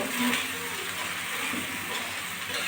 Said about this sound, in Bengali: আলুটা মশলার সঙ্গে ভালো করে কষিয়ে নেব